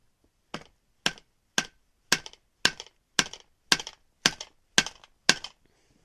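Rocket fuel composition is packed down with a short rammer, giving ten sharp, evenly spaced knocks at a steady rhythm, each one close and crisp, with silence between.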